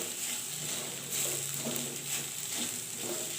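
Horse gram lentils fry in a pan with a soft, steady sizzle and faint crackling, broken by occasional gentle stirring scrapes, all fairly quiet and heard alone.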